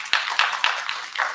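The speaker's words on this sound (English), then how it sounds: "everybody, round of applause." An audience at a youth art festival claps in a brief burst, several sharp hand claps close together then a softer patter fading out.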